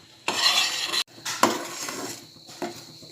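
A thickening ginger mixture is stirred and cooked in a pan, with scraping spoon strokes against the metal and a soft sizzle underneath, in several bursts separated by brief pauses.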